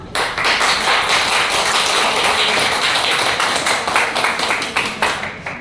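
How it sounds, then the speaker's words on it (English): Audience at a business club show in New Delhi cheers and claps for Group B, a loud, dense wash of applause and shouting that holds steady before breaking into scattered claps near the end. "I want to hear the loudest cheers of support for Group B"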